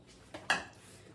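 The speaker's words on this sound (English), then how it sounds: "So let me get my pot here." A cooking pot picked up and handled while making a spiced winter beer: a soft knock followed by a sharper metallic clank, close and brief, with no one speaking.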